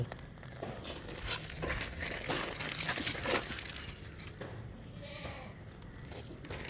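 Crossbreed dairy goats and their kids bleat a few times at close range amid rustling and crinkling noises, with a steady farmyard background throughout.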